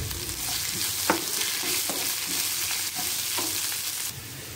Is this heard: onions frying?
yes